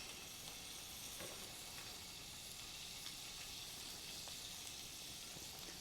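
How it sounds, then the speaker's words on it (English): Chicken laid into a hot frying pan sizzles in a dense, continuous, fairly soft hiss with scattered tiny pops, steady throughout with no talking. "Now, you want to hear it sizzle."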